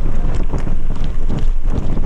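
Strong wind buffets the microphone on a mountain bike trail at Bike Park Wales, a loud, constant rumbling roar with gusty fluctuations, alone and without speech.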